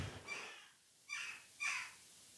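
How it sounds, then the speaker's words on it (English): Two birds call back and forth just outside a window, three harsh, crow-like caws spaced about half a second apart against a quiet indoor background. "there are two birds having a right old natter outside my window"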